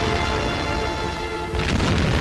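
Explosions in a North African desert battle as ground-attack aircraft destroy enemy tanks, heard as a loud, continuous rumbling roar that swells into a heavier blast near the end, with no pause.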